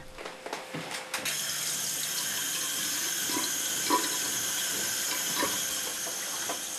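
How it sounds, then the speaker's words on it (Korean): Tap water pouring steadily into a sink as a man in a wheelchair washes himself, a continuous close hiss with faint splashes and small clinks over it. "늘 아내가 씻겨주었는데 오늘은 찬물에 손 담그지 말라며 직접 씻는 남편"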